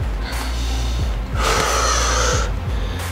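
Heavy, forceful breathing during an intense Spartan workout, close to the microphone, with a sharp gasping inhale and then a long, loud, rasping exhale over a low rumbling background.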